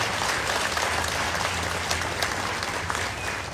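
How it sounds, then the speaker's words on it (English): An audience applauds a guest of honor at a consulate office opening for the Federated States of Micronesia, a dense, steady wash of clapping from a room of people that holds at an even level throughout, with no talk over it. "Let's please give him, our friend, a round of applause."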